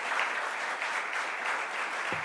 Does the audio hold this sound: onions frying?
no